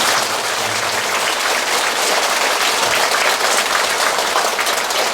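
Sustained applause from a Buddhist temple audience thanking a senior monk after his sermon at a Wednesday dharma gathering, dense and steady clapping filling the hall from start to finish, loud and even with no voices over it.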